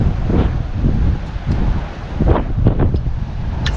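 Strong wind gusting outdoors around a vehicle with a loose awning, a continuous loud rushing and buffeting roar with rising and falling surges and no voice.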